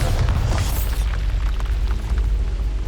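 A Bombarda explosion spell in the Hogwarts Legacy game on PC goes off as a loud booming blast, with a deep rumbling tail that fills the whole stretch and no talk over it.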